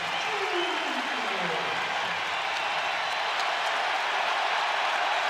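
A college basketball arena crowd roars and applauds in a dense, sustained wall of cheering, with a commentator talking over the noise.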